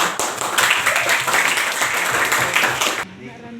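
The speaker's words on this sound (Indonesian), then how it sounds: "Tepuk tangan untuk dia." A class of high school students applauds a classmate, loud, busy clapping for about three seconds that then stops abruptly, leaving quiet room sound.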